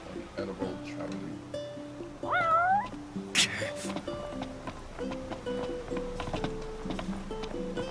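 A cat in Final Fantasy XV gives a couple of rising meows over soft, steady in-game background music, with a sharp high chime just afterward.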